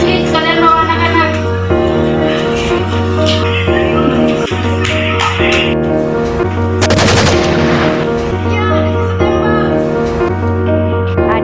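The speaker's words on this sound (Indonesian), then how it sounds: "Tiba-tiba prajurit itu menembak tembakannya" In a student short film, gunshots fired by a soldier come as a brief burst of sharp cracks partway through. They sit under loud, repeating background music that plays steadily throughout.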